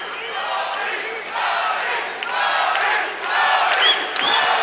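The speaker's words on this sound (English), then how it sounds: "Listen to this crowd getting behind the fighters." A crowd at an MMA fight roars and shouts in support of the fighters, a loud, sustained wall of cheering that swells in waves, with sharper yells and whistles near the end.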